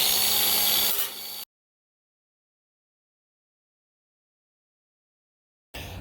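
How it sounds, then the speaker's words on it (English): An angle grinder grinds down leftover bits of old metal gutter during a DIY gutter install, a loud harsh burst that cuts off abruptly, followed by silence and then a brief restart at the very end. "I'm just going to take the grinder and clean up the"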